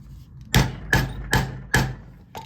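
Four sharp, evenly spaced hammer blows setting a snap into a leather belt on a firm surface, close and loud, followed by a lighter fifth tap.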